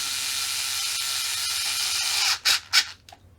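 A steady hiss fills the background while a screw is driven into the chassis brace of an Arrma Kraton EXB 6S RC car, then two short, sharp whirring bursts sound close by and stop.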